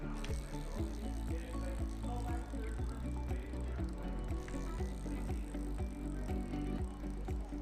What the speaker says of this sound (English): you want to test the spin of your rear wheel